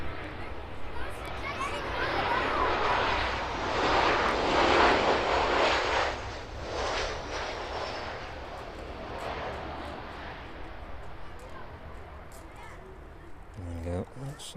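A Jet2 airliner arrives at East Midlands Airport in the evening, its jet roar swelling to a loud peak and then fading slowly as it passes, with faint crowd chatter in the background.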